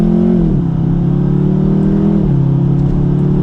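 A 2020 Jaguar F-Type Checkered Flag Edition engine revs up close and loud, its pitch climbing in steps as the throttle opens after downshifting to second gear, a continuous throaty drone.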